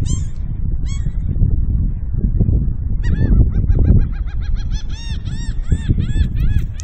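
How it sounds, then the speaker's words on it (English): Seagulls at Siesta Key Beach on the Gulf Coast at sunrise give loud, repeated calls, some rising in quick bursts, over a constant low rumble of wind and surf. "You can hear the seagulls."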